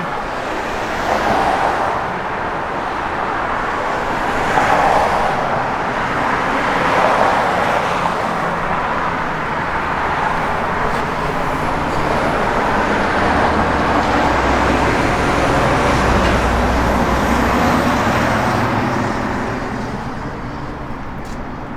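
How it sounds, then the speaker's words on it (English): A 1964 Ford Falcon with a C4 automatic transmission, an aluminum intake and an HEI distributor, cruising down the road with three large passengers aboard; a steady, loud rush of engine and road noise swells and fades over about twenty seconds, with no talk. "And the car just drove down the road outstanding."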